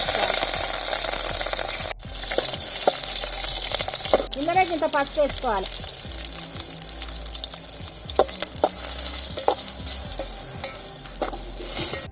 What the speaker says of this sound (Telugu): గిన్నెలో ఒక పా నూనె పోసుకోవాలి నూనె వేడిగానే పచ్చిమిరపకాయలు